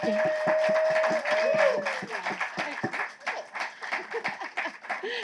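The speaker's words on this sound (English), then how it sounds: "Can we just give Maya a round of applause, please?" An audience applauds after a talk, a moderate patter of hand clapping mixed with light laughter and speech over it, the clapping gradually thinning into scattered claps.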